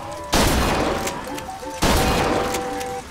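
Shotgun firing in BioShock Infinite: two loud, close blasts about a second and a half apart, each with a long ringing decay, with no voices.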